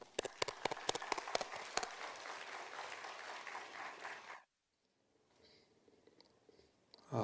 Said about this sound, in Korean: 우리 목사님 나오실 때 우리 큰 박수로 환영해 주시면 감사하겠습니다